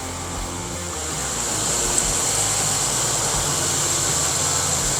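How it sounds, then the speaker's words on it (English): A 1979 Camaro Z28 with a 350 V8 idles steadily nearby, a constant low rumble that swells slightly after the first second and holds evenly, with no talking. "1979 Camaro Z28 350"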